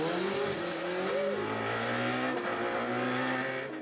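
A student-built race car driving past and accelerating, engine note climbing and shifting in loud sustained whine with a brief tyre squeal, fairly close and alone without voices.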